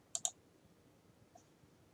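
Two quick, sharp mouse clicks land close together near the start, followed by a much fainter click a moment later, all against a quiet background while selecting an icon in mine ventilation simulation software.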